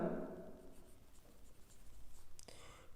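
Pen writing on paper while working an NCERT class 10 maths problem, a steady scratchy stroke sound that runs close and fairly loud at first, then continues softer with brief pauses.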